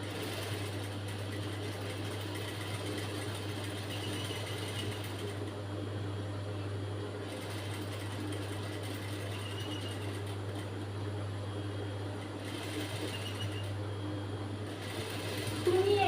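Sewing machine stitching the front piece of a blouse hums steadily and continuously at close range with a low, even motor drone.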